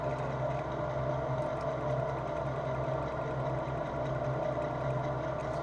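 A gear-cutting machine shaping a pinion at its lowest cutting speed, around 300 rpm, gives a steady, quiet mechanical drone with a faint hum, running continuously without talk.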